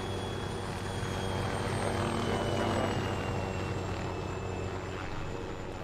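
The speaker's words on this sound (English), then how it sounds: "can you move the chopper up?" Helicopter hovering in the Arma 3 military game, a steady broadband rotor and engine roar with a faint high whine, constant and fairly close for the whole stretch, no voices.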